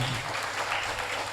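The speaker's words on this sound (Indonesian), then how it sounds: "kita beri aplaus untuk Merpani dan anak-anak muda yang," Audience clapping at a church youth competition opening in Timika, a steady wash of applause throughout with a faint voice underneath.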